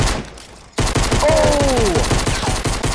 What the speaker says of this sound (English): Craig, minigun his ass